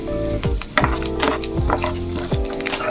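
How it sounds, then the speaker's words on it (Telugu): Coconut pieces fry in ghee with a steady close sizzle, broken by a few knocks and scrapes of a utensil stirring in the pan. "నేతిలో వేసుకుని దోరగా వేయించుకోవాలి కొబ్బరి ముక్కలు."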